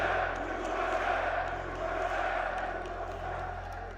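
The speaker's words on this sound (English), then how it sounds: "Crowd slowly starting to warm up here for what will be the final map of this series." A large esports arena crowd at a BLAST Rainbow Six Siege Major semifinal, a diffuse murmur and scattered shouts building under a steady low hum before the final map, moderately loud and continuous.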